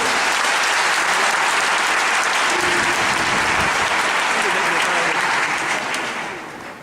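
A church gathering at a diocesan pastoral opening in Moossou claps for the vicar general, a thick, even wash of many hands that holds strong before tapering off at the end.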